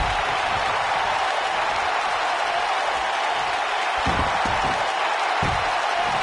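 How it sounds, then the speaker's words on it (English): Raucous wrestling arena crowd in a PS4 wrestling game set in Philadelphia, a constant loud roar of cheering and applause with a few heavier thumps near the end. "We've got a raucous crowd here in Philadelphia tonight"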